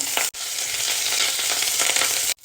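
Green chillies, garlic and curry leaves fry in a little oil with a loud, bright, continuous crackling sizzle, cut by short gaps at the start and end.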